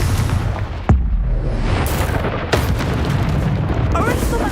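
A Confringo spell explosion in the Hogwarts Legacy video game hits as a sharp boom, then a second burst, over dense, loud rumbling game sound.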